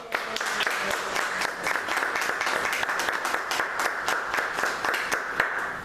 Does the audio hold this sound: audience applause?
yes